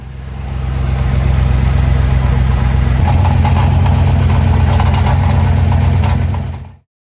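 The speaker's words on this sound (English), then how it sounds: "it recently developed this exhaust rattle at idle" A 1984 Chevrolet Camaro Z28 V8 idling steadily up close, a deep continuous rumble with a faint metallic exhaust rattle running through it, holding level for several seconds before cutting off abruptly.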